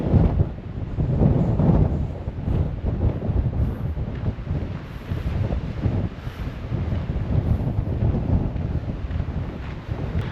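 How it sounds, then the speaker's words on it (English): Strong gusting wind roars across the microphone on an exposed mountain summit, a loud, continuous low rumble with buffeting surges and no voices. "It's so windy up here that my eyes are watering."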